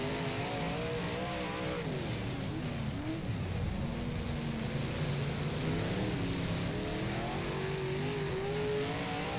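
A Dirtworks Designs 358 modified race car engine in rFactor drones steadily at high revs, its pitch rising and falling through throttle changes as it laps Devils Bowl, loud and continuous with no talk.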